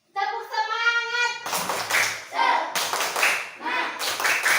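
Schoolchildren in a classroom perform the tepuk semangat cheer, crisp rhythmic group clapping in quick bursts, with a chanted line of voices before the claps begin.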